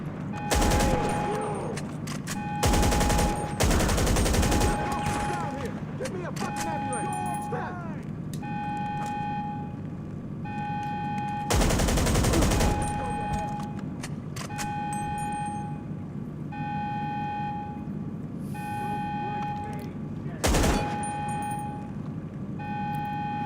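In GTA 5 Online, a magazine is emptied in several loud rapid bursts, separated by quieter stretches with a steady repeating beeping tone; a voice talks over parts of it.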